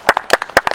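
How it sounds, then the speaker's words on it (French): A class of children out of doors claps in a quick burst, a handful of close, distinct hand claps in an uneven rhythm. "On peut applaudir?"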